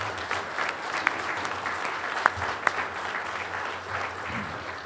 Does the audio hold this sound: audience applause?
yes